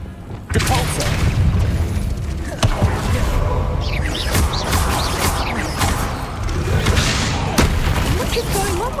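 A Depulso spell cast in Hogwarts Legacy gives a loud game effect, with booming impacts near the start, mid-clip and late, over dense continuous action sound and some voices.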